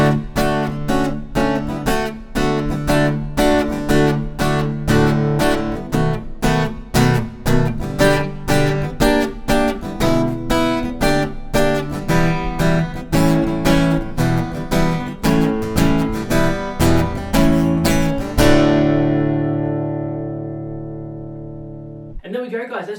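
Acoustic guitar strums through the last verse of a song in a steady rhythmic pattern of chord changes, close and loud, ending on a long ringing final chord.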